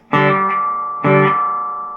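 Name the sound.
guitar amplifier reverb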